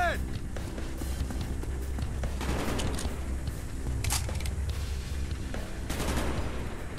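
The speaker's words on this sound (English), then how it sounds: "I'm hearing gunshots." Rapid bursts of gunfire in Call of Duty: Black Ops crackle amid a busy, steady background of game noise, with a voice speaking faintly underneath.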